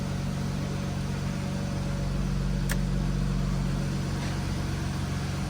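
A drift car's engine idles steadily while warming up, a constant low hum with a single brief click partway through and no talk.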